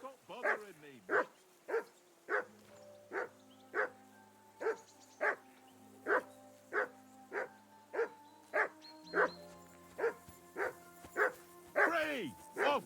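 A dog in Kingdom Come: Deliverance 2 barks repeatedly in a steady rhythm, about one sharp bark per second for over twelve seconds, close and clear, with a low hum underneath and a final flurry of yips.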